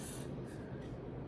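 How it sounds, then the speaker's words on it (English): MAC Fix Plus setting spray is misted onto an eyeshadow brush in a short, close, continuous hiss of fine spray. "I'm going to spray it with MAC Fix Plus"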